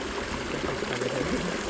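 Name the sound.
small stream of flowing water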